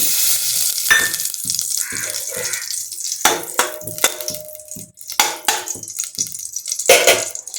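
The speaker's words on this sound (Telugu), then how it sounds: "కళాయి వేడెక్కింది కదండి ఇప్పుడు వన్ బై వన్ ముందు ఇది గీ వేసుకుందామండి" Ghee hits a hot kadai while Bagara rice is being made, giving close, loud crackling sizzles in uneven bursts with short quieter gaps between them.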